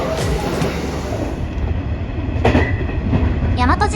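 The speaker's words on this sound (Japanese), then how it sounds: "大和路線王子駅も快調に先に進みます。" JR Kansai Main Line (Yamatoji Line) train running, a steady rumbling roll of wheels on rail inside the car with clicking joints and a brief squeal near the end.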